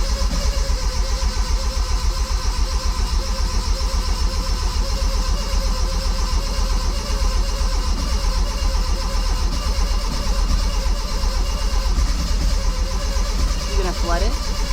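A 1984 Bertone X1/9 engine, freshly rebuilt and reinstalled, turns over and runs with a steady, continuous mechanical drone close by, while people talk over it throughout.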